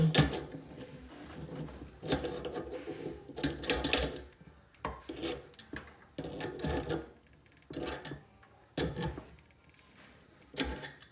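A plastic fitting is tightened by hand during a Neo120 bidet installation, heard as repeated bursts of close ratcheting, clicking and creaking turns separated by short pauses, with no one speaking.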